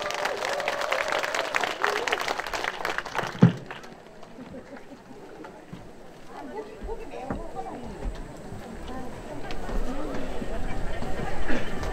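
Audience applause at an autumn foliage temple music concert at Seokguram on Obongsan, a steady dense patter of clapping from a large outdoor crowd that swells toward the end, with a sharp knock early on.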